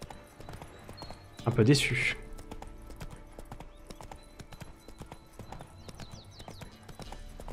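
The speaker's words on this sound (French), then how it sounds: "Moi, j'ai pas le droit de sprinter. De faire un galop. J'ai le droit que de trotter." A horse trotting along a road in The Witcher 3: Wild Hunt, a steady rhythm of faint hoof clops running under the whole passage, with a brief louder burst near the start while someone speaks a few words.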